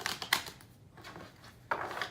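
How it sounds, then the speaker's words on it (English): Tarot cards being shuffled up close in two quick riffling bursts separated by a short quiet pause. "we're gonna give it one more shuffle and then we're gonna cut the deck"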